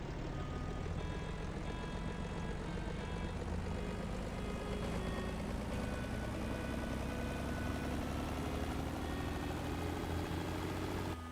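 An old truck engine drones steadily in the driving game Motor Town, loud and continuous with a slowly rising pitch under the rumble and no talk.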